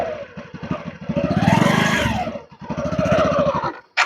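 Motorcycle engine running close by, its chugging note rising and falling as the bike is eased off in gear with the clutch released, with a brief dip before it picks up again.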